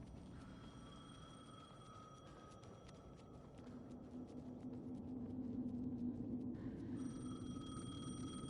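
Telephone ringing in Alan Wake II, a quiet repeating electronic ring heard alone over a low, slowly swelling ambient rumble, with no one speaking.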